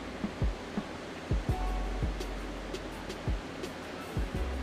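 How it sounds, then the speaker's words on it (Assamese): Chopped onion, ginger and garlic sizzle in a pan with a steady, moderately quiet frying hiss, broken by scattered soft thumps and clatters. "এতিয়া তাত কুটি লোৱা পিঁয়াজখিনি ঢালি দিম। কুটি লোৱা আদা আৰু কুটি লোৱা নহৰুখিনি দিম।"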